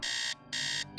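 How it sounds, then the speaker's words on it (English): Alarm clock in the Nancy Drew Message in a Haunted Mansion video game rings as two loud electronic buzzing bursts with a short gap between, alone with no talk. "we need to go ahead and set the alarm clock here."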